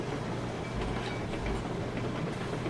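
Heavy freight train rolling along in the railroad simulation game Railroads Online, a steady low rumble of wagons and track noise continuing throughout, with no talking.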